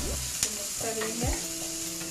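Ginger-garlic paste fries in a pan while a spoon stirs it, making a steady sizzle broken by scraping strokes of the utensil, heard close and alone.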